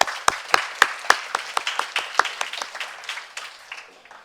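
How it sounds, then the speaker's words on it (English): An audience at an interfaith peace conference claps, starting with a few loud distinct claps that thin into a scattered, fading patter over several seconds. "can we give another round of applause"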